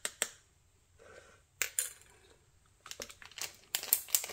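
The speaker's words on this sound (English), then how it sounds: "Feel free to fast forward if you don't want to watch me scooping glitter into cups." A small spoon scoops glitter into cups for a resin craft project, producing faint scraping, gritty rustles and light clinks in scattered close bursts over quiet background.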